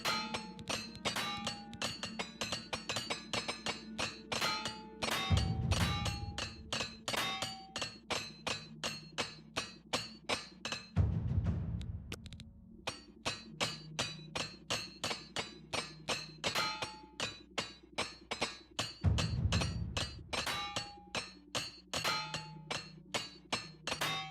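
A repair hammer clangs rhythmically on metal equipment in the video game Oblivion Remastered, with rapid, steady ringing metallic strikes continuing throughout and a few heavier thuds mixed in.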